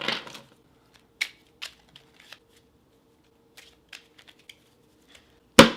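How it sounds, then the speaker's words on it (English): A deck of playing cards is shuffled in several short, crisp riffling bursts with quiet gaps between, close up, ending in a sharper flick. "What you're going to start by doing is shuffling the deck."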